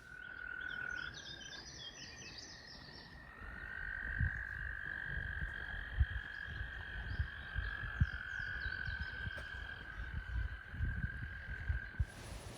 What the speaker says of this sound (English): we heard frogs off in the distance that we went to see if we couldn't find